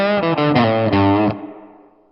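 A classic rock riff on a heavily distorted electric guitar with chorus-like effects: a quick run of chunky, repeated chord stabs played close and loud, then a final chord left to ring and decay alone.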